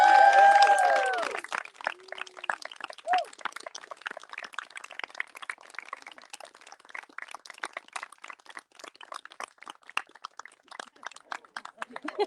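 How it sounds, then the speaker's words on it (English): Loud, sustained applause from a large audience at a season finale tribal council, dense clapping continuing steadily throughout after a brief burst of cheering at the start. "Very loud applause."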